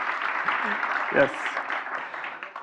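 An audience at a youth work academy opening session applauds. The clapping is soft and continuous, with a brief voice heard partway through, and it fades toward the end.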